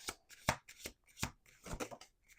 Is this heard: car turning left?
no